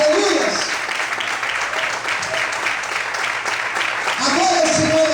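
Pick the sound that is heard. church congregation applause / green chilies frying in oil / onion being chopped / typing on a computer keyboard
church congregation applause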